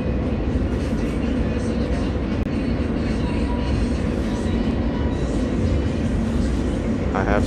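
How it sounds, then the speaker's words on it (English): A New York City J subway train rumbles and clatters steadily over an elevated bridge, a loud continuous roar with rhythmic rattling throughout and a brief squeal near the end. "On the J train."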